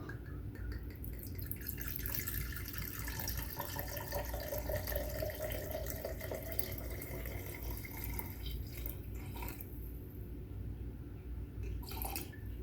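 Vodka poured into a glass at a bar for a triple measure, a steady trickling, splashing stream that runs for over ten seconds, fairly faint, with no voices.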